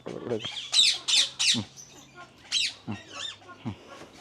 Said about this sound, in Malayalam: ഇത് നമ്മുടെ ഇന്ത്യൻ പാരറ്റ് നമ്മുടെ കൊച്ചു തത്തമ്മ